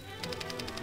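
Typewriter keys strike in a quick, even rhythm, each sharp clack distinct over a faint low hum, in the context of the first typewriter from 1873.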